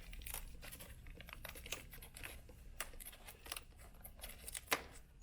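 Paper being torn and crumpled off the mouth of a dragon dance head, a quiet run of rustles, crinkles and sharp little rips spread irregularly across several seconds, close up with no talking.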